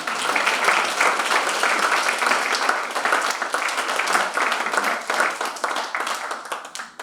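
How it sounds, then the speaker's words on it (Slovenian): An audience at a Mother's Day community event in a local hall applauds steadily, dense continuous clapping for several seconds that tapers slightly at the end. "Dajmo jim še en aplavz."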